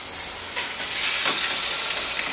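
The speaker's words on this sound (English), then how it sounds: "So you hear the little sizzle there?" Short ribs sizzle loudly browning in a hot pot, a constant crackling hiss with a few brief stirring scrapes.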